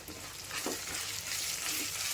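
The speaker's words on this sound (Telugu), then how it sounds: "ఇందులో మంచి వాసన వచ్చేంత వరకు వేయించుకోవాలి మనం" Ginger-garlic spice mixture roasting in hot oil in a pan for a vegetable curry: a steady, close, crackling sizzle that runs throughout with no talking.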